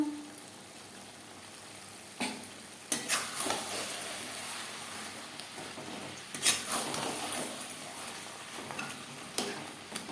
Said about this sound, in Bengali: মাংস বেশ ভালো করে কষিয়ে নেব